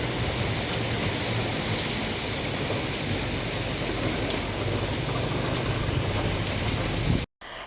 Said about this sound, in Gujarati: બપોર બાદ ઉમરગામ અને આસપાસના વિસ્તારમાં વરસાદ વરસ્યો હતો.